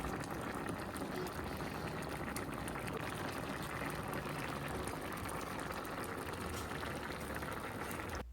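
A shrimp curry with Malabar spinach and fried fish simmers in a pot, producing a steady, close bubbling and gurgling with no talking.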